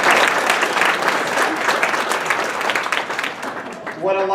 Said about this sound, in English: if y'all could join me in giving them a round of applause